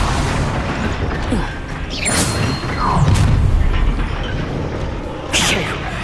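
A Bombarda spell blast in Hogwarts Legacy, deep booming explosions and bursts layered over game combat noise and music, with a few sharp hits spread across the moment.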